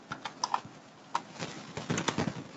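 Fingers tap on a computer keyboard in a handful of quick, light clicks with short gaps, close and clear against a quiet room.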